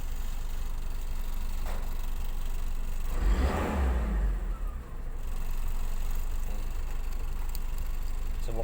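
A Toyota Revo engine with a steady running drone rises in one brief rev in the middle, then settles back to a steady hum, moderately close.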